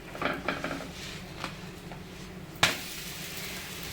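A moong dal dosa is flipped on a hot pan, with a few light scraping and metallic taps followed by one sharp clank, then a soft steady sizzle continuing alone.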